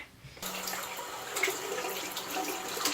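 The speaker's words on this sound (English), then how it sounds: "I'm told you guys to put water on afterwards, so I'm gonna go ahead and do that" Running tap water splashes steadily in a sink while a face is rinsed during a skincare routine, starting abruptly after a brief quiet moment and continuing close and fairly even.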